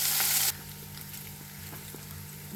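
Garlic and ginger frying in a pan on a gas stove, giving a steady, moderate sizzle with faint stirring scrapes. A louder burst of hiss opens the first half second before it settles.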